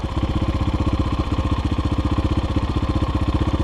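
A GEON X-Road 250 PRO motorcycle engine idles with a fast, even, throbbing pulse, steady and close throughout.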